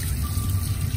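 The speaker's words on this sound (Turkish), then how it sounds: "bulaşıkları yıkıyor" Water runs steadily from a tap as dishes are washed aboard a moving train in Turkey, a continuous close trickle over a low rumble for about a second.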